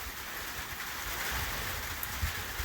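Steady rain hissing on a surface, a continuous even wash of sound with no voices.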